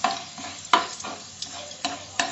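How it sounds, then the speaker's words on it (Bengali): Chopped garlic frying in a pan for North Indian methi pulao, a steady sizzle broken by several sharp scraping strokes of a spoon stirring it, close and moderately loud with no talking. "রসুন কুচিটা দেব। এটাকে আমি এক মিনিট ভাজবো,"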